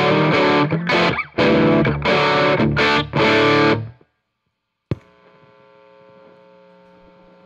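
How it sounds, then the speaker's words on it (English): Very loud distorted metal guitar chords through a guitar amp with new Gibson Custombuckers, cut off abruptly, then after a pause a steady mains hum and hiss rise from the idle amp at high volume. "You can immediately hear that noise floor go way up."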